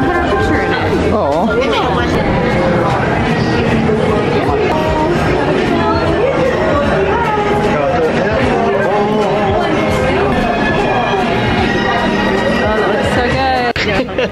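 Dense crowd chatter at Epcot in Walt Disney World on a rainy holiday day, a loud continuous babble of many voices close around, with nearby people talking over it.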